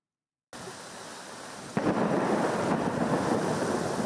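Summer rain falls steadily in Kerala, and a sharp thunder crack near the midpoint gives way to a heavier, louder downpour that continues to the end.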